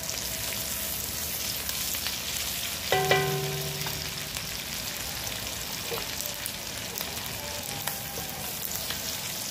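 Garlic and onion sautéing in a pan for chicken liver, a steady close sizzle of frying throughout with a brief metallic clink of a utensil against the pan, alone without talk.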